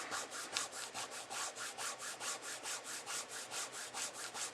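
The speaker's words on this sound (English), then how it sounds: "Notice that I'm burnishing that down really well, and there again." Paper is burnished firmly down onto a paint-covered art journal page in quick, even back-and-forth rubbing strokes, about five per second. The scratchy sound is close and fairly quiet, with no talking.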